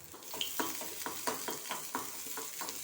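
Chopped onion and curry leaves fry in hot oil for a Bengali-style thayir vada, a steady close sizzle broken by repeated stirring scrapes roughly every third of a second.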